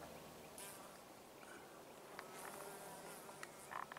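Faint insect buzzing from a bee digging into flower pollen beside a dried-up lake, thin buzzy tones drifting in and out near the listener over quiet outdoor ambience, with a few soft ticks.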